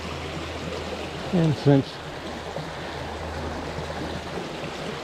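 Water flows steadily over an old man-made weir on a stream along a trail, a constant soft rushing wash, with someone speaking briefly over it.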